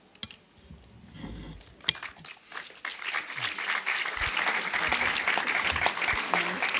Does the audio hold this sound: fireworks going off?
no